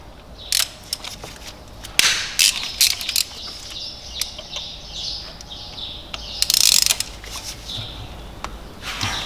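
A ratchet clicks in quick bursts while cracking loose the three bolts holding a BMW N55/N20 Valvetronic motor, with sharp metallic pawl clicks and knocks, close by and without talk.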